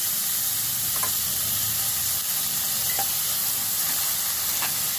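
Onions, green chillies and curry leaves sizzle steadily in a pan of hot oil, a constant close hiss broken by a few faint clicks and pops.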